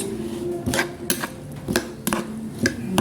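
Fish dipping sauce with sour mango and soy sauce being stirred in a bowl, a spoon clinking against the sides in several distinct taps spaced about half a second apart, close and fairly clear.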